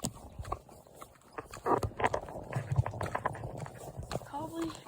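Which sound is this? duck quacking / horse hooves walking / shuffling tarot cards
horse hooves walking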